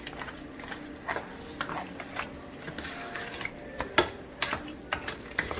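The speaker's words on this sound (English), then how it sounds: "It was a big lobster, so I'm gonna mix them well." A two-pound lobster curry is stirred in a pot, soft irregular scrapes and clacks of the spoon against the pot, close and fairly quiet, with a few sharper knocks.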